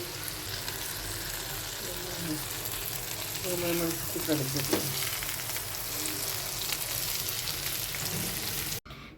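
Chicken naga wings with hot chilies sizzle steadily in a pan while being stirred, with a busy scraping patch midway and an abrupt stop at the end; no one speaks.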